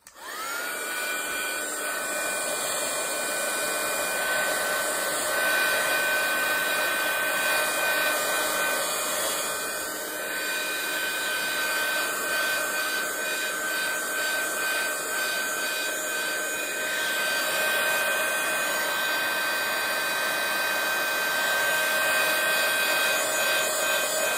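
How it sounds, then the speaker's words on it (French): A hair dryer drying glue roars steadily at close range the whole time, a constant loud whoosh with a high whine on top. "Je vais sécher ça. Donc attention au bruit, n'est-ce pas?"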